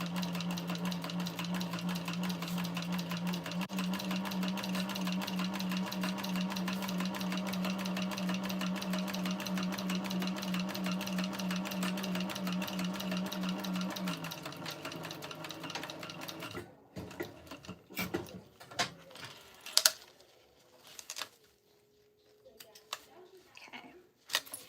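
A sewing machine top stitching a tote bag runs in a fast, steady mechanical whir for about fifteen seconds, then stops, leaving soft handling clicks and rustles.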